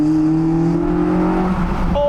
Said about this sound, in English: The ITB sound is crazy.